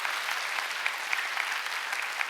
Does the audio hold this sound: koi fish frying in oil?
no